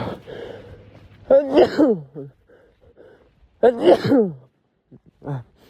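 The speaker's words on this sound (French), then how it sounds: "tu m'as vu éternuer en direct" A person sneezes twice, each a sharp sudden burst with a breathy lead-in, separated by quiet pauses; a short vocal sound follows at the end.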